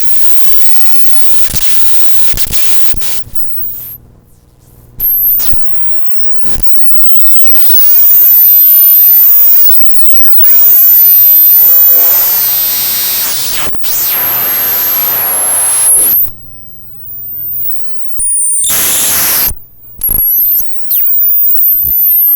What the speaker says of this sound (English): There's static that happens.